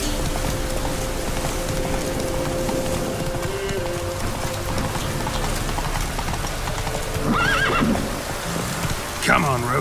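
Roach the horse in The Witcher 3, hooves clip-clopping steadily under rain and ambient game sound, with a rider's voice calling out and a horse's whinny near the end.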